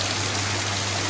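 Heavy rain pours down outdoors during a family visit to a farm in Gujarat, making a dense, steady hiss that fills the brief stretch with no voices.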